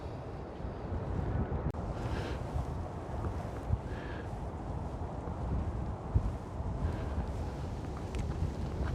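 Cold wind blowing outdoors in the wild, a steady dense rumble buffeting the microphone without a break, with a few faint higher sounds above the roar.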